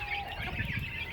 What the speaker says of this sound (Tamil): மேலே ஒரு சிக்கன் பெரிய கோழிக்கு வச்ச சாப்பாடை சாப்பிட்டுக்கிட்டு இருக்குது